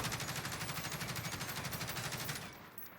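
A bipod-mounted gun in the video game Warzone fires one fast, steady burst of rapid shots lasting about two and a half seconds, then stops.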